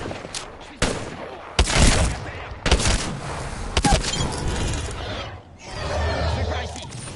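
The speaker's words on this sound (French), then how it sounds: "On me tire dessus." Gunfire in the battle royale video game Apex Legends: bursts of rapid shots and heavy cracks under game music and effects, with a voice speaking between volleys.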